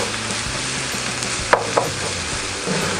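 Garlic fries in a pan toward golden brown, a dense, steady close sizzle with a couple of sharp clicks from a utensil midway and no talking.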